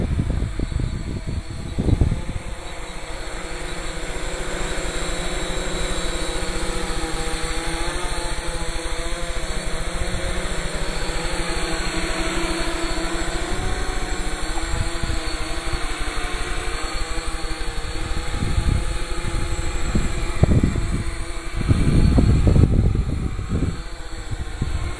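A GPS drone hovering in moderate wind gives a steady, close motor whine throughout, with gusts of wind buffeting in short bursts near the start and end.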